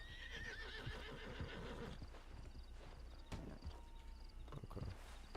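A horse in Red Dead Redemption whinnies, then its hooves clip-clop in a steady walking rhythm, quiet and close, with no talk over it.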